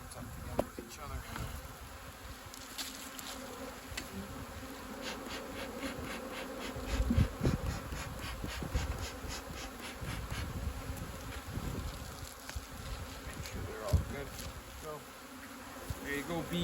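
Honey bees swarm and buzz around an opened hive during a first spring inspection outdoors, a dense continuous drone with individual bees whining close by and faint handling knocks.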